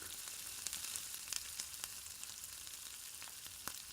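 Tomatoes and chilies sauté in a pan for a Kongu-style rice and lentil dish, giving a steady, faint sizzle and fry with scattered small pops and crackles throughout.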